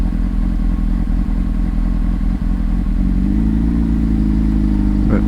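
A motorcycle ridden on a cold day, its engine droning steadily and loud from up close with wind rumble, the pitch climbing slightly as it accelerates near the end.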